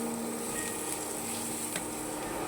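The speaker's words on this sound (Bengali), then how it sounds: "এবার একটু নেড়ে মিশিয়ে নেবো আমি" Garam masala and spices sizzling in a hot pan for potol dorma, a steady low frying hiss with faint stirring scrapes, close and continuous with no talking.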